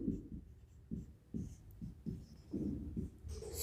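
During a physics lecture on tensors, a pen or chalk writes on a board in quick, faint strokes and taps, close and unevenly spaced, with no speech.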